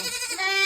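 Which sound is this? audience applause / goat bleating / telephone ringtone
goat bleating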